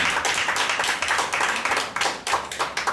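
Wedding guests clap together after a couple is declared husband and wife at a church ceremony, a lively, uneven burst of many hands at moderate distance.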